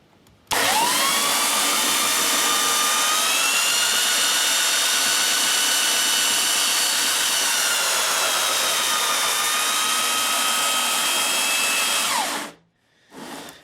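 An abandoned belt sander, newly repaired, whirs at full speed for about twelve seconds, a loud steady motor roar with a whining tone that dips slightly, then cuts off abruptly and briefly restarts.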